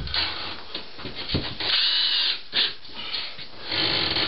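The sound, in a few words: power drill driving screws into board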